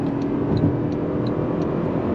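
A 2025 Toyota Camry SE hybrid sedan accelerating under throttle, a steady broadband road and drivetrain roar heard from inside the car, even and sustained with no talk.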